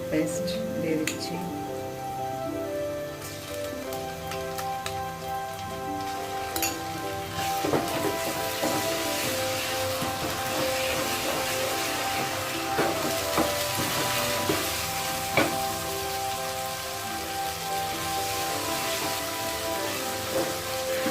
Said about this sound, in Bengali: আদা রসুনটা ভালো করে ভেজে নিতে হবে